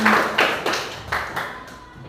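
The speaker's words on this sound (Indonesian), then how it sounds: "Tepuk tangan." A school class claps hands in a few separate bursts, about five or six sharp claps spaced unevenly, close by and fading slightly toward the end.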